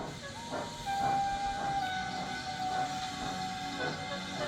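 Steam locomotive running with a weak fire and low steam, a steady broad hiss and rumble with a thin sustained whistle-like tone over it, continuous and moderately loud.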